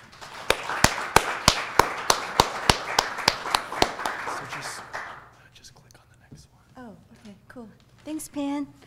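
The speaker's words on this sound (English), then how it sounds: "Please give a round of applause for Tutran." Audience applause for a speaker at a RisoLAB event, a rhythmic run of about fifteen sharp, evenly spaced claps lasting a few seconds before fading into quiet talk.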